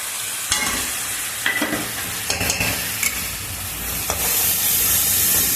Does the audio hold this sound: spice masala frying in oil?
yes